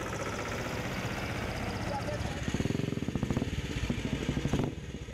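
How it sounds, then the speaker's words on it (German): Vintage motorcycles, cars and tractors idle and putter together at an oldtimer meet on a market square, a steady engine clatter with loud rhythmic chugging pulses in the middle, with voices in the crowd. "Auf dem Marktplatz kamen zahlreiche Motorräder, Autos und Traktoren zusammen"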